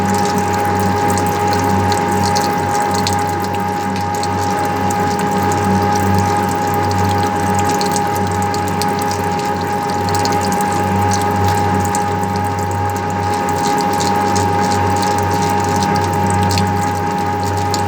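A lathe runs a knurling operation, its roller tool pressed against a turning workpiece. The result is a loud, continuous mechanical drone with a steady whirring, ratcheting texture close by, and no voices.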